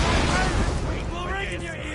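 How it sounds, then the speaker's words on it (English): A grenade explosion in the video game Borderlands 2, a loud close blast that booms at the start and then trails off into rumbling debris, with a voice talking over it. "Good grenade, but up close it sucks."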